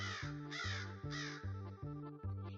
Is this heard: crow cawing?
yes